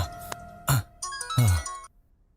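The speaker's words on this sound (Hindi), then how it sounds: "किसका फोन आ गया?" A phone ringtone plays in a Hindi-dubbed South Indian movie, a short burst of bright tonal notes mixed with sweeping effects before cutting off into quiet.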